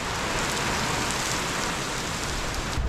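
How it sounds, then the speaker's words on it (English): Steady rain falls outdoors, a dense, even hiss of drops striking surfaces around a 1999 Kawasaki 900 STX jet ski work area, continuous and fairly loud with no voices. "And wow, the rain just came in."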